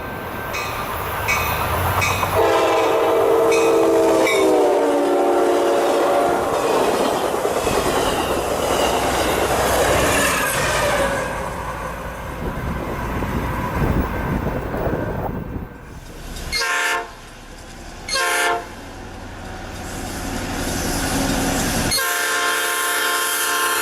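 An Amtrak passenger train with the Ocean View dome car in Phase 3 paint rumbles past on the Michigan Line with clattering wheels, its horn sounding in long blasts, then the passing cars fade to quieter rail noise.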